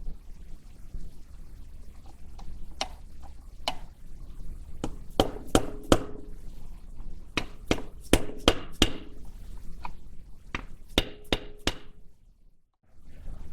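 Sharp metallic hammer strikes knock an old bearing race out of the wheel hub of a 1947–59 Chevy or GMC truck, coming in irregular bursts of close, ringing blows with short pauses between them.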